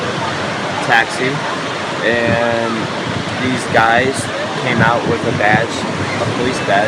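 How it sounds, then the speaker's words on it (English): Ocean surf washing steadily on a beach in Rio, a broad continuous roar sitting under a man's close, ongoing speech throughout. "You can hear the waves in the background."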